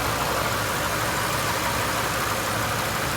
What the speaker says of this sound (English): it's a V10 powered truck